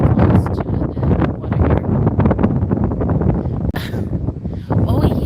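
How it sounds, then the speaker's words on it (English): Strong wind gusting near a lake shore in South Florida, buffeting the microphone with steady low rumble and occasional rustle, while a person talks over it throughout. "Yeah, it's a bit windy here."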